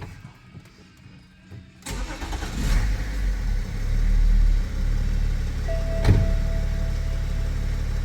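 A BMW X5 engine cranks and catches after a quiet start, then settles into a loud, steady idle with a brief rev, close by.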